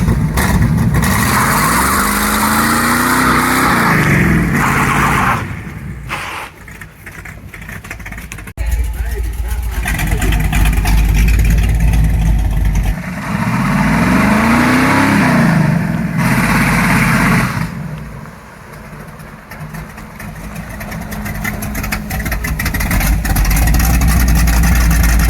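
A Chevrolet C10 pickup's engine runs with the exhaust cutouts open, loud and raspy. It revs up in swelling, falling waves over a rough idle, close by, with voices talking over it.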